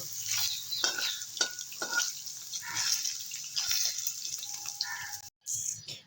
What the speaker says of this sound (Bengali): এবারে পনিরটা ভেজে নেব